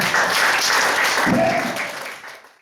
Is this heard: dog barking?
no